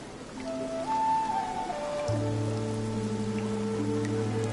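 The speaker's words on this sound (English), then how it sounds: "The rain showed no mercy." Rain falls steadily in the video game Infinity Nikki, a soft continuous patter under sustained tones of background music.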